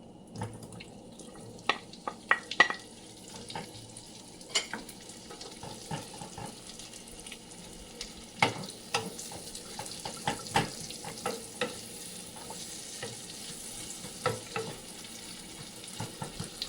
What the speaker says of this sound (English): I'm going to right now stir fry the onion